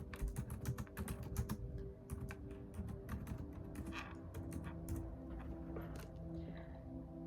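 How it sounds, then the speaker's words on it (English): Quick, steady typing on a computer keyboard, with close, crisp key clicks in an uneven rhythm that continue throughout. "So I just typed in decoding the matrix."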